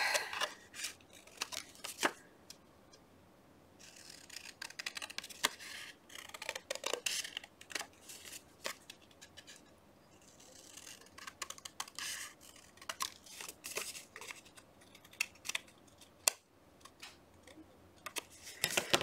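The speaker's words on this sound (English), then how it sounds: "Just gonna trim it a little to try to get it straight since I blew it." Scissors snip and trim paper at close range during a calendar journal pocket craft, a string of short, crisp cuts with brief pauses and some paper rustling and handling between them.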